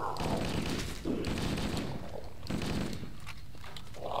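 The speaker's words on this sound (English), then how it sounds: "Sorry if I'm firing blindly, I just don't like this." Dense, continuous automatic gunfire in the PC game Halo, a steady roar of rapid shots with brief shifts in intensity, loud throughout with no clear speech.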